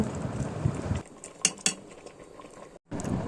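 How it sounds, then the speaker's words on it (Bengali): A metal wok is set down on a kitchen stove while rice cooks nearby, producing two short metallic clinks over a bubbling, hissing background that cuts off briefly and then resumes. "কড়াইটা বসিয়ে দিলাম"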